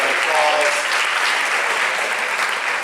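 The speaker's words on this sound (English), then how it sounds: "Give these folks a big round of applause." A large indoor crowd applauds senior indoor track athletes at a school athletic awards night, with dense, steady clapping that holds strong throughout, and a few voices cheering faintly underneath.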